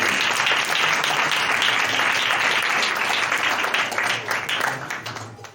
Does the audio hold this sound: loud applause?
yes